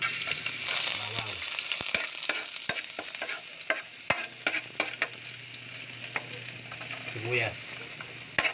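Garlic sautéing in a pan for pork adobo, a bright continuous sizzle with frequent sharp clicks and scrapes of a spatula stirring close by.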